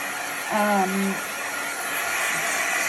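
A heat gun blows steadily on acrylic paint marker artwork on paper, a constant airy hiss that runs through the whole stretch, with a brief tonal whine near the start.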